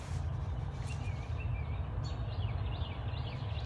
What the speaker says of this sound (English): Birds are up. Yeah, it's March.